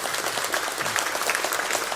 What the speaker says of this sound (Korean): 우리 장로님 박수 한번 쳐드리고 싶습니다